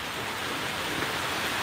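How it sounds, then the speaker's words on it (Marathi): Rain falls on a goat shed on a farm as a dense, even hiss of drops that is fairly soft and constant throughout, with no voices. "परत एकदा पाऊस जोरात यायला लागला आहे."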